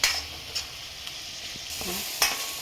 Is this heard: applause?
no